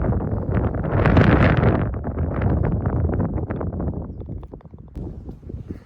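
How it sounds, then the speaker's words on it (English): Strong wind gusts ripping down a canyon wall onto a golf course hole, buffeting the microphone with a loud, continuous roar that swells and eases over several seconds, with no talking. "When the wind is going like it is, it rips down that canyon wall and it plays straight into you."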